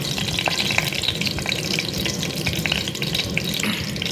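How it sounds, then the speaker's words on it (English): Tej patta leaves sauteing in hot oil in a pan for tomato soup, a steady close crackle and sizzle lasting throughout with small scattered pops and no talking. "now add tej patta leaves and saute"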